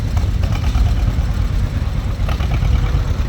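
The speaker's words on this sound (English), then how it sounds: "here's Jerry himself with a John Deere H, 1944 edition" A 1944 John Deere H tractor chugs past in a threshermen show parade, its two-cylinder engine giving a loud, low, uneven popping beat that stays close and continuous.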